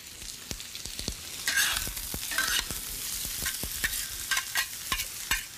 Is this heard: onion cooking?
yes